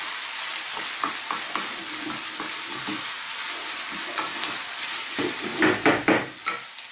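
Beef and green beans stir-fry in a pan with a steady sizzle and repeated scraping, clattering stirs, which become busier and louder toward the end.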